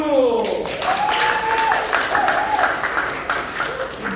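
Applause from the guests at the opening ceremony of the Malgeun company's upgraded, relocated Daegu-Gyeongbuk logistics center, a steady wash of clapping that runs the whole time, with a voice calling out over it.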